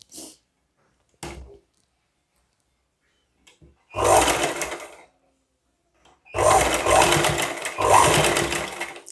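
Sewing machine stitching a neckline strip onto a blouse, short bursts of fast rattling stitching separated by quiet pauses and small handling knocks, close by.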